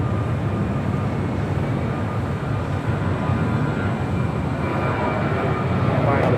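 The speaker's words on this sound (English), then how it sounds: "You got a Southwest 737 up next." A Southwest Boeing 737 going around at LAX gives a steady, loud broadband engine roar that holds level throughout, with a faint rise near the end.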